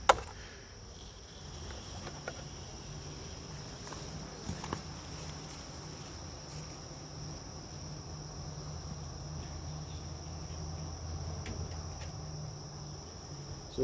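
Honey bees in an opened queenless hive give off a low, steady drone that runs unbroken throughout, faint and close, with a few light taps and knocks now and then.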